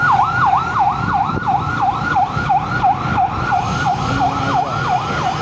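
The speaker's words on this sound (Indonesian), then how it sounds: "Waduh, ada ambulan." A wailing siren cycles rapidly up and down, loud and steady, over a rumble of road traffic.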